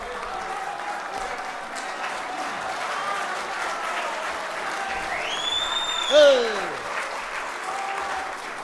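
At a mushaira for poet Ammar Iqbal, the audience applauds in a steady, moderate wash of clapping, with a sliding whistle-like tone and a voice briefly cutting through partway.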